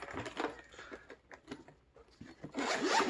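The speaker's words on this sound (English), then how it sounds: "Zips up nicely." A zipper runs along a carrying sleeve for a small FPV whoop drone, closing it in a few quiet rubbing pulls and ending in a louder, rasping final stretch, with no talk.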